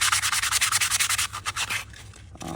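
A sanding block rubbed over a pencil stapler, a quick series of rhythmic scratchy strokes close to the listener, slowing and breaking up toward the end, with no speech.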